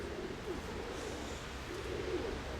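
Pigeons coo in low, soft phrases, one near the start and another toward the end, over a steady outdoor hiss; no wingbeats stand out.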